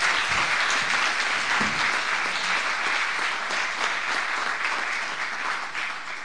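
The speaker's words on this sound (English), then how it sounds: "big applause for them and for their votes on playability." Steady crowd applause at an awards ceremony, dense and sustained, filling the whole stretch without letting up.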